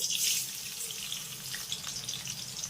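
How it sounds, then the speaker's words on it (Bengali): Chopped garlic dropped into hot white oil in a wok, a continuous bright crackling sizzle, loudest at the start, then steady and close throughout. "তেলটা গরম হয়ে গেছে আর এবার আমি তেলের ভিতরে অ্যাড করব চার থেকে পাঁচ করার মতো রসুন কুচি"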